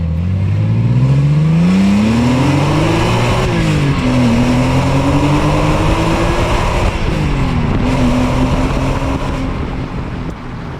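A sports car engine pulls hard under acceleration, a loud, close, steady roar whose pitch climbs, dips briefly at gear changes, then climbs again before easing off.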